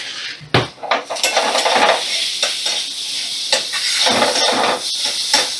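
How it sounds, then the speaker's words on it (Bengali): Soybean chunks sautéed with spices in a pan, with a steady sizzle under frequent scraping and clinking of a metal spatula against the pan in irregular bursts, close and fairly loud. "আমি মশলাগুলো সোয়াবিনের সাথে দু মিনিটের মতো কষিয়ে নেব"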